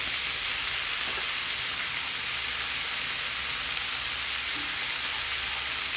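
Igado cooking in a pan gives off a loud, steady hiss and sizzle that fills the whole stretch, close up and without voices.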